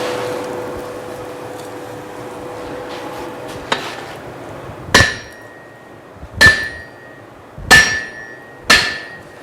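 A hammer strikes metal in a workshop with four loud, ringing blows a second or more apart, each followed by a short metallic ring, after a quieter lead-in with a faint hum and one lighter tap.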